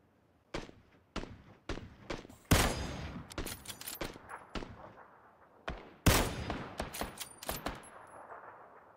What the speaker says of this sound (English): He's about to start taking some shots at me, I think.